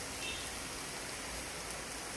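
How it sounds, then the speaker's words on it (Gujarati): Heavy rain pours steadily over a village, a dense, even wash of noise that holds constant throughout with no voices. "વાતાવરણ કંઈક આવું બની ગયું છે અત્યારે, ફૂલ વરસાદી."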